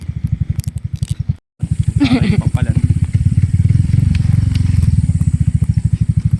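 A single motorcycle carrying riders along a rough, tree-lined rural road, its engine a close, steady, pulsing thrum that drops out briefly before resuming, with faint rattles over the top.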